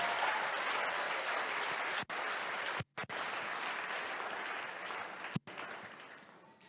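A church congregation bursts into sustained, dense applause and acclaim during a worship service, a steady wash of clapping that drops out briefly a few times before fading toward the end.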